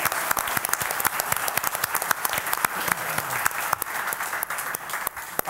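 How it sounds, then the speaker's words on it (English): Sustained audience applause at an evening insurance recovery forum, honoring firefighters and police; dense, steady clapping from a sizeable crowd with sharp individual claps standing out near the microphone, continuing throughout. "can we give them a huge round of applause"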